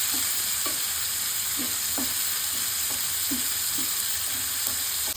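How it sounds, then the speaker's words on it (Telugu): Green chillies and onion fry in oil in a pan, giving a steady close sizzle broken by a spoon scraping and stirring about every half second, with no talking. "ఈ పచ్చిమిర్చి, ఆనియన్ కొంచెం గోల్డెన్ కలర్ వచ్చేంత వరకు వేయించుకోవాలి"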